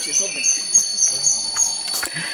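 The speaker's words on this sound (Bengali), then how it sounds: "আর পাখি আর ঝিঝির ডাক" Birds and crickets calling in a bamboo forest on a hill trail in Sylhet, a faint repeated high chirp at a steady rhythm with other soft calls.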